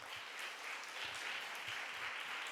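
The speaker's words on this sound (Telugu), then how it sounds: "ఈరోజు నూతనంగా వచ్చినటువంటి వారికి మనము ఎప్పుడు వచ్చే వారం చప్పట్లు కొట్టి స్వాగతిద్దామా?" A church congregation claps to welcome newcomers, faint, even applause from many hands that holds for a couple of seconds in a reverberant hall.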